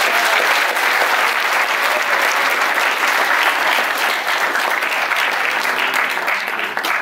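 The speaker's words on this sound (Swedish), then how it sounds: "Vi ger dem en applåd tycker jag." Loud, sustained audience applause fills a Swedish show's grand final in a Folkets hus hall, a thick continuous wash of many hands clapping without a break.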